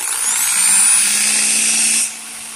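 A power drill bores a hole through a refrigerator freezer door, a steady high motor whine running for about two seconds and then dropping away, with no talk.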